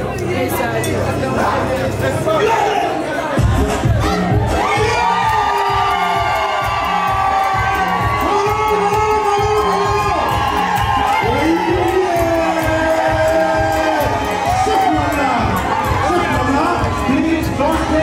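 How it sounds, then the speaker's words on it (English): An audience cheering and shouting for a performer's entrance, with a driving rhythmic drumbeat starting a few seconds in and voices calling out over the steady roar. "Sous vos applaudissements, s'il vous plaît"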